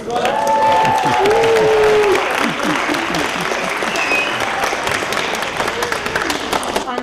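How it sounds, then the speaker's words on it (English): School pupils at a conference break into loud applause and cheering, a dense burst of clapping with raised voices and whoops that stays strong throughout and eases only slightly toward the end. "could you pupils give a cheer to forgotten friends?"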